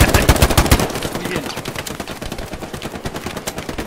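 Rapid automatic gunfire from the World War II shooter game Hell Let Loose, loud bursts up front that thin into scattered, more distant shots with faint background talk.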